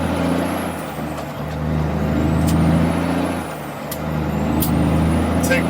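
A frac-site equipment truck idles with a steady low engine rumble, and sharp air-brake hisses and releases cut through at intervals as it is put into gear.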